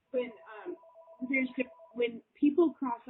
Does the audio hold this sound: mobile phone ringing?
yes